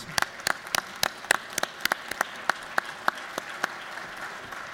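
Applause in the Georgia House of Representatives chamber: a sparse, fairly regular run of sharp individual hand claps that thins out and slows toward the end, with a quiet room behind it.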